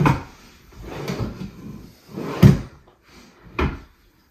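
Drawers and cabinet doors in a tiny house opened and shut, a few separate wooden slides and knocks, with two sharp closing thuds near the end and no talk.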